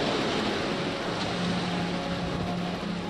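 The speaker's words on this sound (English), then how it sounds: "First, small waves, just 30 centimeters high." Small waves about 30 centimeters high rolling through a wave tank make a steady, dense washing and rushing sound, close and continuous with no talk.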